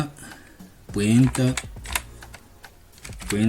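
Python code is typed on a computer keyboard in quick clusters of sharp, close key clicks, while a person talks over and between the keystrokes.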